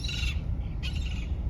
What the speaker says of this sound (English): Heard some seagulls though.